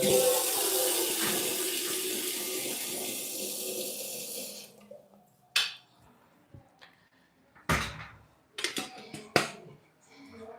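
A kitchen tap runs steadily for about four seconds while water is collected for cooking basmati rice, then stops, leaving scattered clanks and knocks of pots and utensils.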